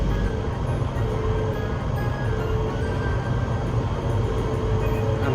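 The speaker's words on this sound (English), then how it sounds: "that's the train on the other side." Train standing on the other track in a rail shuttle carriage carrying cars and caravans, a loud steady low rumble and hum with a faint high whine, continuous and close.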